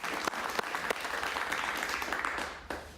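Applause for the groom-to-be fills a television interview studio, steady dense clapping from a small audience lasting throughout, with a few sharper claps standing out near the start and end.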